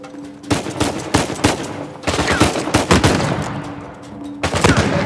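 Gunfire in Uncharted 4 crackles in repeated bursts of sharp shots, some rapid like automatic fire, separated by short pauses over a low background hum.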